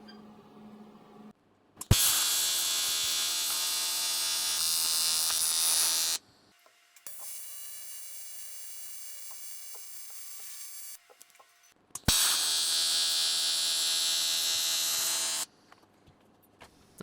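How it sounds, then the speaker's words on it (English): MIG welding of outside corner joints on a steel standing-desk frame held in a vise, heard as three steady crackling buzzes of several seconds each, separated by brief pauses, close and loud with no talking. "so I'm actually going to weld this up in the vise"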